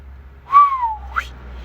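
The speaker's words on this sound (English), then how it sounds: "I got to give it a whistle." A single human whistle glides down in pitch, then flicks sharply upward at the end, clear and close against a quiet low hum.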